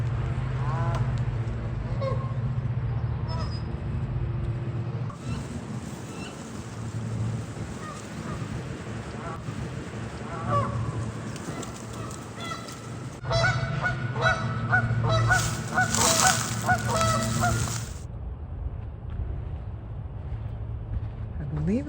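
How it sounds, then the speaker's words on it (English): Ducks calling on the water, repeated honking and quacking from a distance over wind and water noise, growing louder and denser toward the end, with people talking at times. "Those are ducks."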